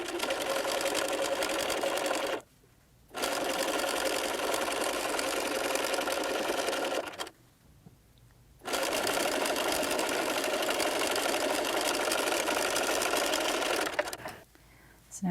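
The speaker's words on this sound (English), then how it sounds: "you're just gonna sew along the top and the bottom, leaving the sides open and the window portion open" A sewing machine stitches along the top and bottom edges of a fabric face mask with a clear window panel, running in steady loud bursts that stop briefly three times, with no talking.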